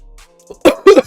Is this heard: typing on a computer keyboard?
no